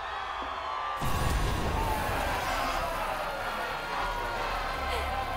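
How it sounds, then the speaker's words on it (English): Crowd cheering in Final Fantasy 7 Remake, a sudden swell of loud, sustained arena cheers and whoops that holds steady to the end, close and full. "The crowd cheered that"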